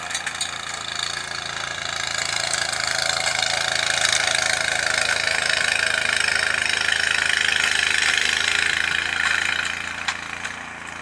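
A snow blower engine runs steadily and loud close by while clearing a driveway in upstate New York winter, a continuous droning roar with a rough mechanical rattle and no pauses.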